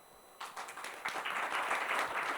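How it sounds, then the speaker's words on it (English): A seminar audience breaks into applause that swells quickly and holds as a dense, steady wash of many hands clapping, heard from within the room. "So please clap."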